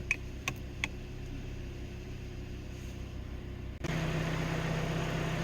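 Engine of a grey Hyundai Grandeur IG Exclusive Special idling steadily at around 1000 rpm, a low continuous hum that shifts slightly louder and fuller partway through, with a few faint clicks near the start.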